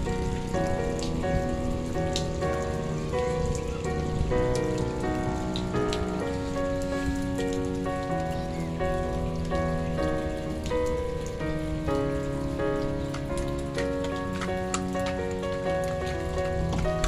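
Rain pours steadily onto a shrimp pond fishing spot, a dense patter of drops on surfaces lasting the whole stretch, loud and even with no speech.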